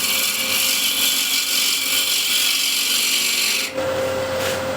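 A wood turning tool cuts into spinning wood on a lathe, sending shavings flying: a loud, continuous rasping scrape that shifts abruptly in tone near the end.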